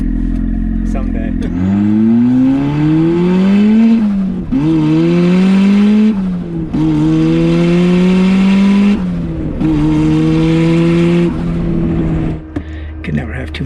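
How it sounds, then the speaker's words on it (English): A turbocharged Mazda Miata accelerates hard through several gears, its engine loud and close with rising revs, gear changes between pulls and a brief lift at the end. "My dad's first ride in the Turbo Miata."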